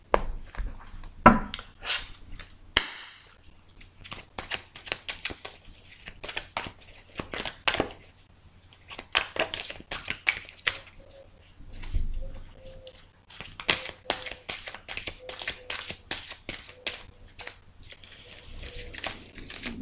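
A deck of tarot cards being cut and shuffled, with repeated close riffling, flicking and slapping card sounds in irregular bursts, and faint speech in places.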